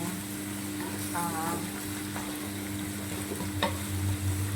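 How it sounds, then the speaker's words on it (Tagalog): Onions, garlic and minced beef sauté in a pan for lasagna, giving a steady, close sizzle with occasional stirring scrapes, and a short burst of voice near the start. "naggisa ko og sibuyas og ahos and then minced beef"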